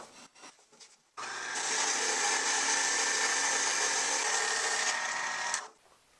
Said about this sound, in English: it's just a simple Dremel style sanding wheel